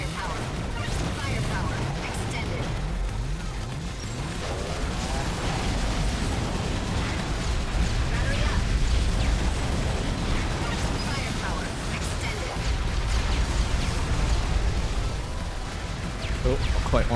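Rockets bursting in Assault Android Cactus, a dense, chaotic stream of pops and blasts over mechanical game noise, continuous and loud, with a player talking over it.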